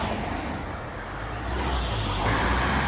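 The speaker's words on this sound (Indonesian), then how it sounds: "Di sini mobil tuh jalannya cepat-cepat ya" Cars moving fast along a road in Ansan, South Korea, a steady broadband roadway rumble that swells slightly louder toward the end as traffic passes nearby, with no voices.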